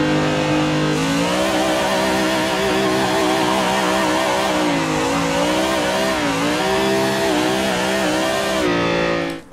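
A racing-simulator car engine revs hard and steadily while drifting, its pitch rising and wobbling with throttle changes, loud and close for about eight seconds before cutting out.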